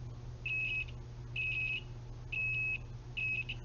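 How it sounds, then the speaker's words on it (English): Four steady electronic buzzes from a homemade electric buzzer, each under half a second with short gaps, over a low background hum; fairly faint and close. "I've kind of created the inside of the buzzer"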